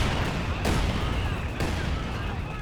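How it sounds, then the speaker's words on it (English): A heavy mortar barrage in the strategy game Company of Heroes 2 keeps up a dense, steady rumble of distant blasts, with two sharper impacts breaking through, under faint background chatter. "It is the heavy mortar barrage."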